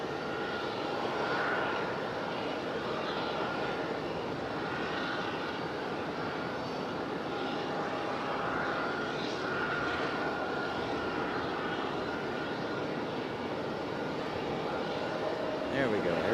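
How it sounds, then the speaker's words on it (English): An Air Canada Airbus A319 jet rolls for takeoff at Raleigh-Durham International, a steady broad engine roar heard from a distance for about sixteen seconds, while people talk over it. "There we go, Air Canada. Finally gonna roll."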